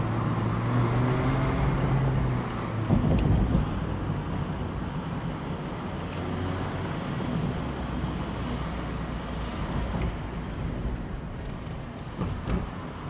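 Mazda MX-5 roadster engine braking while driving through the city, a low droning engine hum with road and wind noise, easing in pitch over the first seconds and carrying on steadily with a few small bumps.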